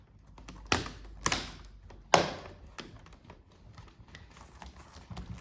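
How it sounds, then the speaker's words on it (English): A few sharp plastic clicks and taps close by as the keyboard is connected into an Acer Aspire 5738Z laptop, three distinct snaps spaced about a second apart, then quieter fiddling sounds. "We connect the keyboard, quite an important component."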